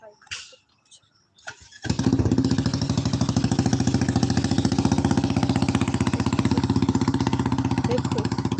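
A motorcycle engine starts after a few clicks and faint sounds, then runs with a steady, loud, close putter that continues to the end of the clip.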